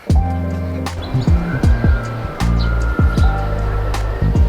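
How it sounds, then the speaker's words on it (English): A Hello Kitty tour bus drives through Chiang Rai, Thailand, its engine revving up and down with repeated shifting pitch sweeps. Knocks and bumps break in along the way, loud and close throughout. "Time to get back on a Hello Kitty bus."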